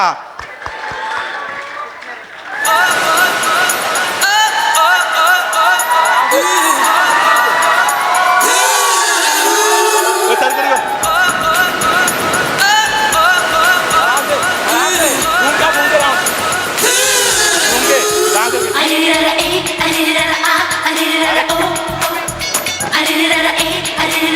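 A live audience at a poetry recital cheers, whoops and applauds to welcome a poet, with loud sustained clapping and shouting filling the room throughout after a brief quieter start.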